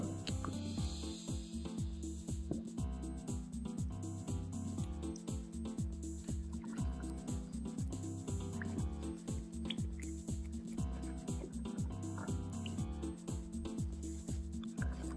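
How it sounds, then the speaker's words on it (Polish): A lever espresso machine forces hot water through ground coffee under high pressure into a cup below, giving quiet, irregular drips and wet trickles over a faint steady hum, with no talking. "Woda przechodzi przez kawę pod dużym ciśnieniem."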